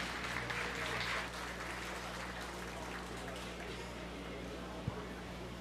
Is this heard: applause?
yes